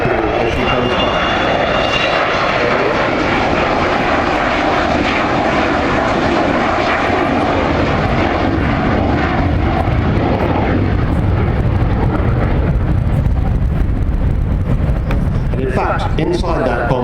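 An Avro Vulcan B2 jet bomber at the Farnborough Air Show 2014 roars past loudly and steadily, a broad, rumbling jet noise sustained throughout and swelling slightly toward the end.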